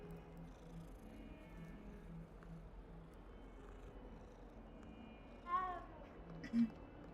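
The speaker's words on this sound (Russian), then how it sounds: "О, еще один кот." Cat meowing in the Hogwarts Legacy video game, two short faint meows near the end over a quiet ambient background with soft tonal music.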